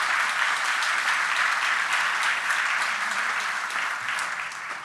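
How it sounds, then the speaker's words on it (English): A forum audience in Vilnius claps for the organising team and volunteers, thick continuous applause filling the room, steady and loud, easing slightly toward the end, with no one speaking. "I would like you to have a big round of applause for my team and the volunteers"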